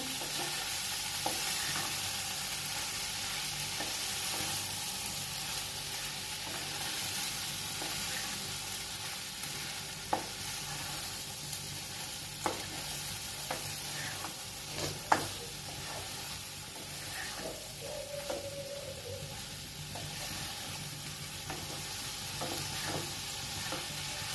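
Okra frying in a pan with spices while being stirred: a steady, close sizzle runs throughout, with scattered clicks and scrapes of the utensil against the pan and no talking.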